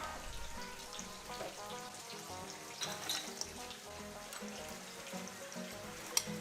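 Chicken, tofu and onion sizzle and crackle steadily in a frying pan as they are stirred, a soft continuous fry with small pops and occasional scraping close by.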